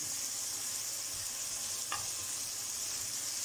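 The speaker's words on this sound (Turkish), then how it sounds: "bu şekilde kavuruyoruz. Ben kuşbaşı koydum." Diced beef cubes sizzle steadily as they are sautéed in a little oil in a pan, a constant close hiss with one faint stir or scrape midway.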